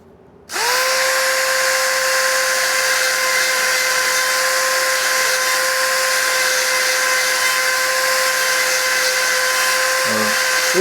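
A small rotary grinder cutting into the gullets of a bandsaw blade starts up and runs as a loud, steady high-pitched whine for about ten seconds, with a short scraping touch near the end.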